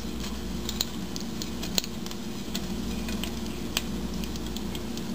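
Cumin seeds sizzle steadily in hot oil on a low-to-medium flame for a South Indian chicken curry, a constant close hiss with occasional small pops and spoon ticks as they are stirred.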